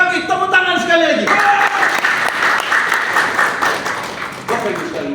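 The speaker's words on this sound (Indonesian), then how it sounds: "Tepuk tangan sekali lagi." Sustained audience applause at a Sunday motivational talk in Indonesia by an ustadz, loud and steady for several seconds, with a speaking voice over it at the start and again near the end.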